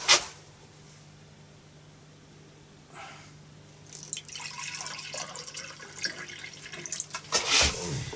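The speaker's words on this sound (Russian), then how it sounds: "Надо себе налить сока березового." Birch sap is poured into a glass in a village kitchen, a soft splashing trickle that follows a quiet stretch and ends with a brief louder splash close by.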